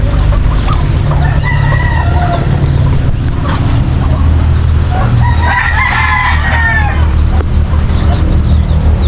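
Chickens and chicks on a small backyard farm clucking and peeping at a steady level over a constant low hum, with a busier burst of chirping near the middle and no speech.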